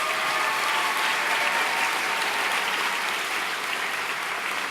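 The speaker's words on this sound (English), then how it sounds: "Give them another round of applause." Sustained applause from a large audience at an arts showcase, a thick continuous roar of many clapping hands held at a steady level from start to finish, with no voices over it.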